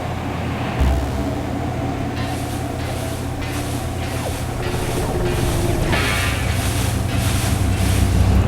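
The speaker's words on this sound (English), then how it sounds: "I'm gonna fly into a wall, repeatedly firing my laser so you can hear the pitch increase" A ship's laser in the space game Sylph fires over and over while flying into a wall, making a regular train of bright, punchy bursts over a constant low engine hum.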